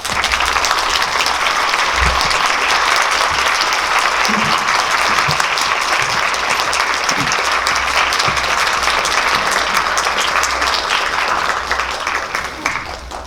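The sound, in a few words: audience applause welcoming guests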